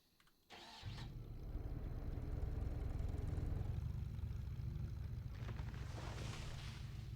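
A vehicle engine in the building game Scrap Mechanic kicks in after a brief quiet, then settles into a steady, low droning hum that holds level throughout without talk.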